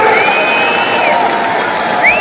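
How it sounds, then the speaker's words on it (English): A Norwegian crowd at Holmenkollen applauds Frida Karlsson during the women's 50 km cross-country ski race, a dense, loud wash of clapping and cheering with a faint rising whistle. "generous applause from the Norwegian crowd for Frida Karlsson"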